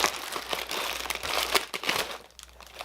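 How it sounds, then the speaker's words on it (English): A knife cuts and peels packing tape off a boxed cosplay sword, producing close, uneven crinkling and crackling bursts of plastic tape with brief pauses between pulls, no talking. "Let me cut some of this tape off."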